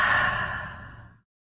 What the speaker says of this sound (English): Just take some deep breaths.